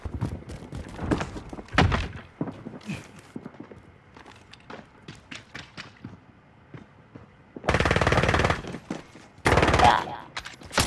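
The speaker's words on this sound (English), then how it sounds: "Now this crossbow shoots a lot harder." Crossbow being fired in a shooter game, sharp thunking shots scattered irregularly alongside rattling bursts of gunfire and two long loud noisy blasts near the end, all close and punchy.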